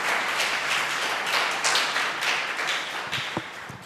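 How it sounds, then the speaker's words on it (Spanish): A church congregation claps for the Lord in steady, dense applause that carries on for several seconds before thinning out, with a few louder individual claps near the end. "Dale un fuerte aplauso al Señor si usted lo cree"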